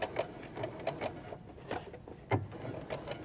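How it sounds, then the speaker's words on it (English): Sewing machine stitching a few back stitches along fabric with horsehair braid, short rhythmic bursts of needle clatter that start and stop, with a louder thump partway through, heard up close with no talking. "So now we can start sewing."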